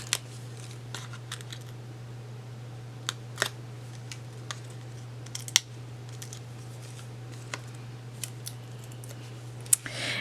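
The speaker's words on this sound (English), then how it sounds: "Cut that dimensional down just a little bit." Scissors cut down a foam dimensional adhesive for card making, producing sparse, faint snips and clicks scattered over a quiet room with a steady low hum.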